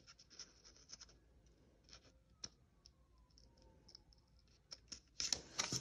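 Paper being cut with scissors in a planner session, a run of quiet close snips and scratchy clicks at an uneven pace, ending in a louder burst of rustling cuts.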